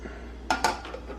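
Metal spoon clatters twice against a pot while curry powder and seasoning are mixed into rice for a dal curry, followed by a few softer scrapes, close and clear in a quiet kitchen.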